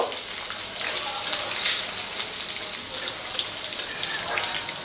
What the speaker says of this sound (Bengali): আদা রসুনটাকে একটুখানি ভেজে নেব